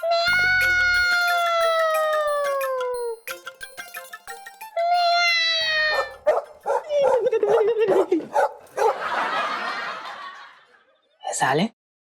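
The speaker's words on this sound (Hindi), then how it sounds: "ये कुत्तों को रात में नींद ना आती है?" Dogs barking and howling at night in a Hindi comedy sitcom scene, loud, close, drawn-out whining howls alternating with choppy barks and a snickering, laugh-like burst, with a brief sharp yelp at the end.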